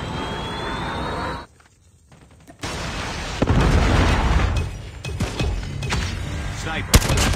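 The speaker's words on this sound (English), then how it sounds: "Predator missile inbound." A Predator missile strikes in Call of Duty Mobile multiplayer, a loud explosive boom followed by crackling gunfire and scattered bursts, with game announcer voice lines over the action.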